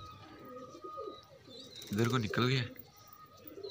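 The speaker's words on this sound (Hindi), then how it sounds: "ये कबूतर नीचे आ गया" A pigeon coos twice in quick succession, fairly close, after someone speaks softly in Hindi; the coos are brief, with quiet outdoor background.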